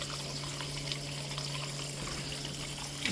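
Water draining down basin waste pipes through a newly opened service valve on a sparge pipe, a steady low rushing flow with a faint sustained hum, continuous and unbroken, heard close with nothing else over it.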